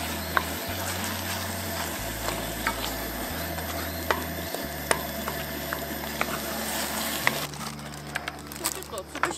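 Canned tomatoes are stirred and mashed in a camp pot over a campfire at an autumn family campsite, soft scraping and squishing under low bubbling, with a steady electronic hum and occasional sharp clicks.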